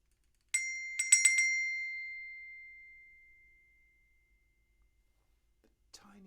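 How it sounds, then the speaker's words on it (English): Small bells ring quietly as a short cluster of high, delicate tings that fade away over a few seconds into near silence, followed by a faint later jingle. "Maybe you've got some bells like this."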